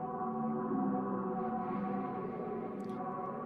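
Self-generating ambient music called Space Fields plays from an iOS app: a soft, steady layered drone of sustained tones with a faint chime near the end, quiet and unbroken.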